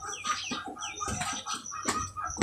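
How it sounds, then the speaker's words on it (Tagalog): Chickens clucking close by in quick, choppy bursts, several birds overlapping in a busy cackle. "Manok."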